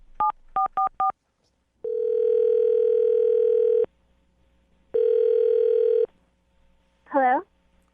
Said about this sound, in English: I'm going to call the phone number right now.